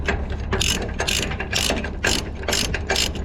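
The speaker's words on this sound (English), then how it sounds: "So let's go ahead and winch these down." A ratchet winch cranked to tighten down a wire cable, its pawl clicking in six bright, evenly spaced bursts, close and loud with no talking.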